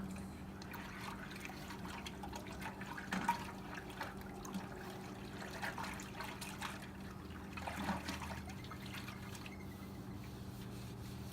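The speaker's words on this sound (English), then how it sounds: "So I'm just giving everything a nice good scrub." Water trickles and splashes steadily while brewing equipment is scrubbed with a sponge, with soft wet rubbing and a few louder sloshes close by.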